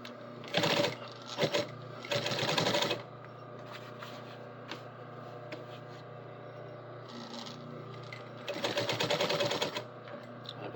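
A sewing machine stitches a jeans back pocket in three fast rattling bursts with quiet pauses between them, a low hum running under the gaps.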